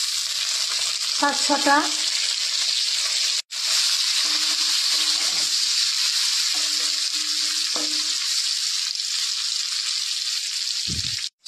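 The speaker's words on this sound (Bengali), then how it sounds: "শুকনো লঙ্কা 3-4টে ভেজে নেব" Dried red chillies and bay leaves fry in hot oil for a Bengali rajma dish, a loud, unbroken crackling sizzle with one momentary dropout and a few brief spoken words underneath.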